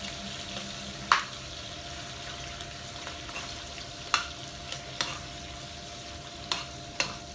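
Food frying in oil is stirred in a pan, with a steady low sizzle and several sharp scraping clicks of the utensil at irregular intervals, close and fairly quiet.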